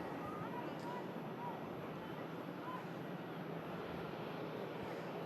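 A Ryanair Boeing 737 arriving from Dublin at Manchester Airport makes a steady, broad roar of jet engine noise that holds at an even level throughout.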